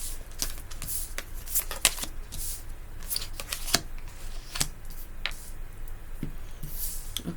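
A Light Seers Tarot deck is shuffled by hand in a steady run of soft riffling, slapping and sliding card sounds, close and continuous, with no voices over it.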